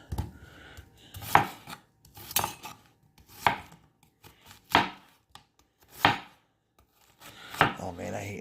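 A Kaizen Japanese chef's knife chops onions on a board in six or seven sharp, distinct strokes, each a crisp close impact with brief gaps between, without speech.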